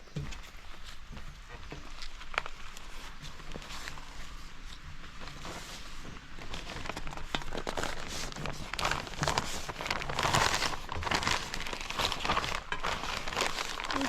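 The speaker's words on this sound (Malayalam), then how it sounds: "ഇനി ഇതെല്ലാം കൂടെ നമ്മളൊന്ന് പൊതിഞ്ഞെടുക്കുകയാണ്" Paper or banana-leaf wrapping crinkles and crumples steadily around a packed Kerala rice lunch with fried egg and pickle, a close, continuous rustle with soft handling noises throughout.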